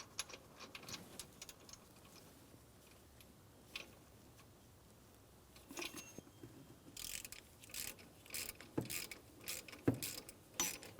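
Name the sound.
torque wrench tightening idler pulley mounting bolt, GMC Sierra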